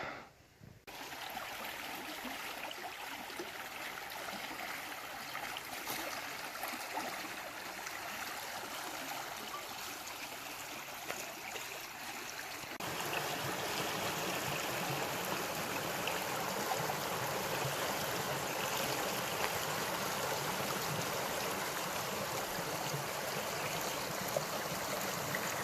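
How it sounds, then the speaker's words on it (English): Small waterfall on a forest trail stream, a steady broadband rush of flowing water that stays continuous throughout and grows fuller and louder about halfway through, with no talking. "just past that little waterfall I just had"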